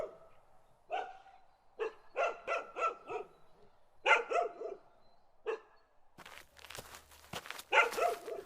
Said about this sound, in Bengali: হঠাৎ আমার ঠিক পাশ থেকে একটা কুকুরের ডাক শোনা গেল।